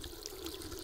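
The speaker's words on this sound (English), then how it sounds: "I'm gonna go turn on the water" Water runs from a tap in the video game The Kite, a faint, even hiss of flowing water with no talk over it.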